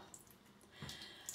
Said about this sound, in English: let's add some water.